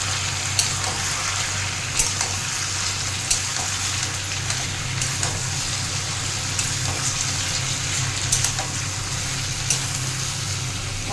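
Rohu fish and small amudi fish sizzle in two frying pans at once, a steady dense hiss of hot oil with occasional sharper spits and pops, close and alone throughout.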